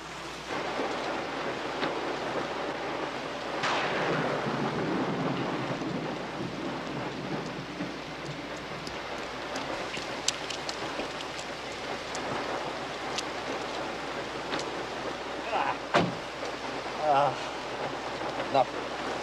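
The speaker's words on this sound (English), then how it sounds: "You don't like driving in heavy rain." Heavy rain pours steadily with rumbles of thunder rolling underneath, a dense continuous wash with a few sharper cracks near the end, while people talk quietly.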